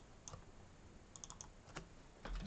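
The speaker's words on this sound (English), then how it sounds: "Let's just type that out on the screen for you there" Keys tapped on a computer keyboard while text is entered, a handful of scattered soft clicks and short bursts over quiet room noise, near and fairly faint, with no talking.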